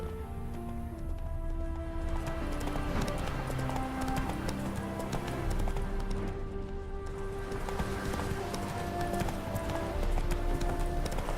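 A horse named Roach clip-clops at a gallop through the open world of the video game The Witcher 3, steady rhythmic hoofbeats running continuously over game music and ambience.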